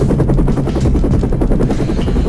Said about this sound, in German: Da ist der Hubschrauber.